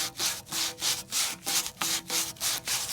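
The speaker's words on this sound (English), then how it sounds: "So this is the emery cloth that I use for sanding." Emery cloth is rubbed back and forth across a plastic pool pipe fitting for a union replacement, making close, rhythmic rasping strokes, about eight quick even passes, with no talk.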